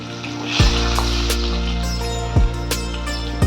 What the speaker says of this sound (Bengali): প্রথমে আমি নুন মাখানো ইলিশ মাছগুলোকে সর্ষের তেলে ভেজে নেব